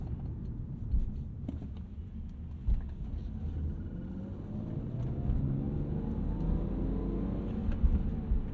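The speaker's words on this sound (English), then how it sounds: "Who doesn't love the sound of a BMW inline 6?" A BMW E46 323i inline-six engine idling with a smooth, steady low rumble and a few soft clicks and knocks, no talking.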